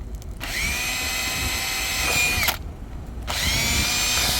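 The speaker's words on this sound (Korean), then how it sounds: "그래서 요런 걸로 가지고 그냥 뚫으면 이렇게 쉽게 구멍을 뚫을 수 있어요." A power drill bores ventilation holes for a hot, humid summer, running in two long, steady whining bursts split by a brief pause, close up with no talking.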